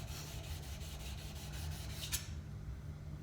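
A file rasps across the metal edge of a card scraper, squaring it to a 90-degree edge. Quiet rhythmic rubbing strokes come close up and stop abruptly near the end after a sharp final scrape.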